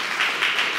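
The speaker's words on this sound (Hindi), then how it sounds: "क्यों ना हम उनके लिए जोरदार ताली हो जाते हैं" Short burst of church congregation applause during a Sunday evening service, a soft, even patter of many hands clapping for well under a second.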